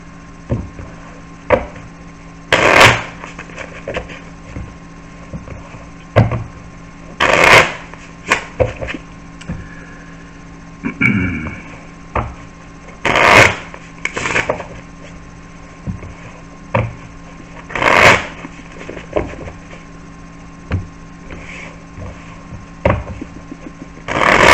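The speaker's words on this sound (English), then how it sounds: "let's give these a little shuffle here." A new, slippery deck of playing cards being shuffled at a blackjack table, with repeated riffling bursts in an uneven rhythm and handling noises in between, close and moderately loud, with no talking.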